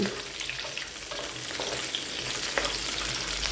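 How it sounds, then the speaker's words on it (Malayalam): Chillies are sautéed in oil for a tamarind pickle, giving a continuous close sizzle with light stirring and a spatula scraping the pan. No one speaks. "ഈ മുളകൊന്ന് വഴറ്റണം"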